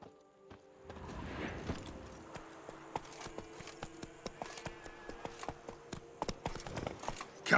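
Hooves of Geralt's horse Roach clip-clopping in The Witcher 3, a quiet rhythmic run of hoofbeats that starts soft and grows more distinct and quickened toward the end.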